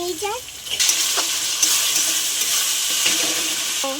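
Chicken frying in a pan with ginger, garlic and green chili paste, a bright continuous sizzle with stirring scrapes, loud and close, a voice briefly heard at the start and end.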